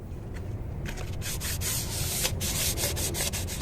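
Fine hand sanding cleans an engine's cylinder head gasket surface with a flat tool, a close, steady scratchy rubbing in quick repeated strokes, with no voices.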